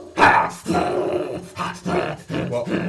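A human voice imitates an angry dog, growling and barking in a series of loud, rough, gravelly bursts with short breaks between them.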